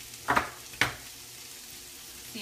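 Cabbage for egg roll in a bowl sautéing in a pan, two quick scraping stirs bursting over a soft continuous sizzle that then settles back to a quiet fry.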